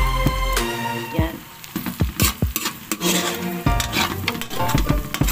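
Onion frying in a pan for spicy buttered shrimp, a loud steady sizzle with a spatula stirring and scraping against the pan in repeated strokes, close up, with brief tonal clinks between movements.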